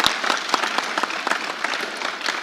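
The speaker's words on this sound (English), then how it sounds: "Can we clap for the expert?" An audience applauds an expert at a live Gen Z election-themed church and state event: dense, steady clapping from a crowd, loud and continuous with no pause.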